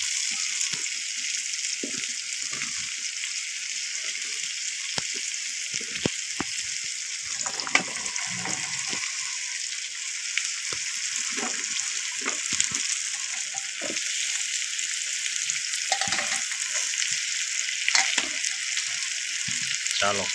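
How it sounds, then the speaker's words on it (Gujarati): Raw banana pieces tossed into a pan of frying masala for kela nu shaak, a steady hissing sizzle broken by scattered clicks and scrapes from stirring, close up, with no voices. "તો હાલો હવે આપણે કેળા નાખી દેવાના છે"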